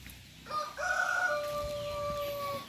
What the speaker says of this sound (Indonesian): Paling enak di pedesaan teh suara ayam ciri khas